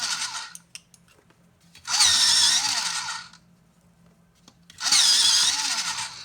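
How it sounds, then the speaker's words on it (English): Coloured pencils being sharpened in a sharpener, two loud whirring bursts of about a second and a half each, separated by a quiet pause with light clicks, close up. "I'm just going to quickly sharpen these."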